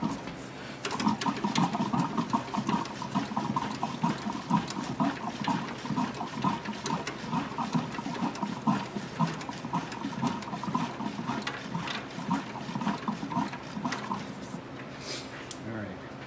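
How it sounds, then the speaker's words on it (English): Coolant gurgles inside the upper radiator hose of a 2001 Ford Escape 3.0 V6 AWD as the hose is squeezed rapidly, giving a close, steady run of wet bubbling pulses that lasts most of the stretch. "You can squeeze this upper radiator hose. Squeeze it rapidly, 20, 30 times maybe."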